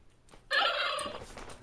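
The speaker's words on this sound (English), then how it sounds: "Hey, Big Red, did you want to bite that turkey, huh?" A turkey lets out a single loud, close gobble lasting about a second, a rapid warbling call that rises abruptly and fades off, with no talk over it.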